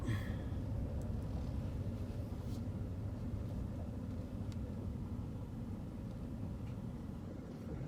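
A 1969 Ford F250 Ranger pickup, its engine newly freed after being stuck, reverses slowly as a steady low rumble with a faint higher whine on top, fairly quiet and even throughout, with no voices.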